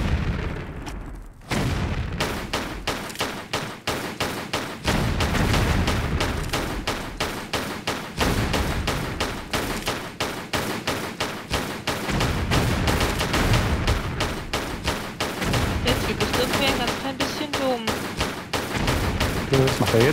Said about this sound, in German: Lara, nimm mal die Pistole.